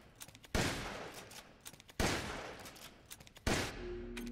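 Rapid gunfire from a weapon in the Resident Evil Village video game, three loud bursts about a second and a half apart, each a sharp blast with a brief decaying tail, with faint clicks between.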